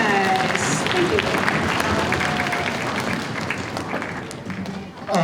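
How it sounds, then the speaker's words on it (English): A school concert audience applauds the 5th grade band with loud, sustained clapping from a large crowd. A few voices and cheers sit within it, and the applause thins slightly toward the end. "Can we get another round of applause for the 5th grade band?"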